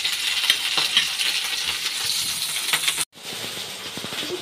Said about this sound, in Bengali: এখানে পনির ভাজা হয়ে গেছে